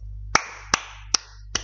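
Four sharp, evenly spaced claps ring out alone over a low steady hum during a roleplay game call, each a crisp single hit about every 0.4 seconds.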